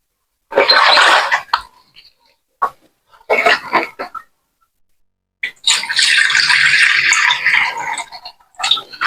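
Water gushes from a tap in three separate bursts, splashing into a metal cooking pot close by, the last pour longer and fuller.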